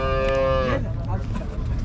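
A cow with its calf at the Uzynagash livestock bazaar gives one loud, close, drawn-out moo that breaks off, leaving the low murmur of the busy market behind.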